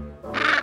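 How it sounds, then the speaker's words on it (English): A cartoon daddy penguin squawks once, a short, bright, nasal honk in a children's animated show, heard alone. "Which one of these daddy penguins also squawks four times?"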